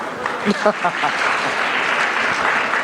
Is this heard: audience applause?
yes